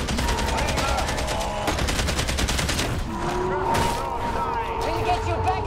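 Sustained machine-gun fire from gunners in Warhammer 40K: Darktide, a rapid continuous rattle of many bursts filling the scene, with a voice talking over the gunfire.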